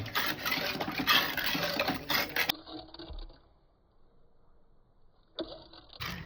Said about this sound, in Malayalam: നല്ല പോലെ അങ്ങോട്ട് മിക്സ് ചെയ്യാം